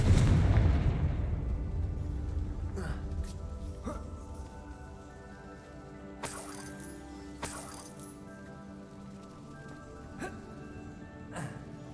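Confringo blasting spell cast in Hogwarts Legacy: several sharp explosive bursts and magical cracks ring out over a lingering rumbling game soundscape, with the loudest impacts clustered near the middle, fairly close and punchy.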